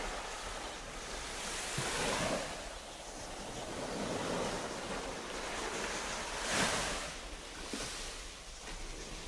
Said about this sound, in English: Just to give you a little bit of an idea of how the sound of the sea is and stuff.